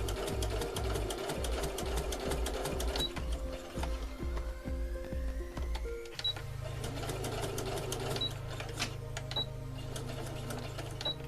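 A sewing machine stitches a doll sock seam in rapid, even mechanical bursts, pausing briefly midway before running on with a steady hum, close by.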